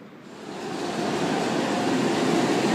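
Heavy rail rumble from the Indian Pacific carriages as locomotive NR27 moves off to pick up the other half of the train, a steady broadband roar that swells slightly over the first second and then holds.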